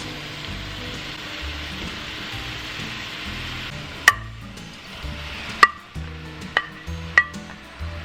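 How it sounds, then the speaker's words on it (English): Beef is stirred back into a pot of sautéed vegetables for a summer soup, giving a soft, steady sizzle close up, broken by a few sharp clicks and scrapes of the utensil against the pot. "So now what we're going to do is add our meat back to the pot."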